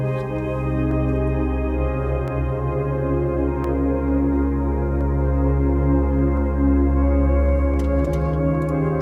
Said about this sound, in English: Really soft and dreamy pad.